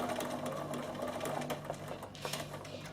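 A sewing machine runs steadily, straight-stitching the right sides of a quilted denim bag together, with a continuous close mechanical hum and rapid needle chatter throughout and no talk.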